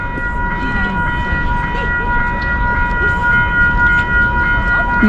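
An electric SkyTrain in Canada rolls in with a loud, steady rumble and a whining electric tone that continue throughout, with people talking nearby.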